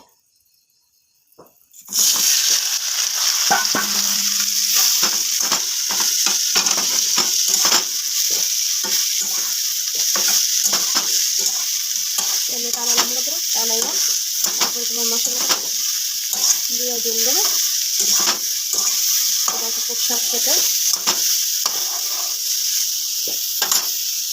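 Food fries in a pan on a gas stove: a loud, steady sizzle begins after a short quiet start, with frequent scraping stirs from a spatula throughout.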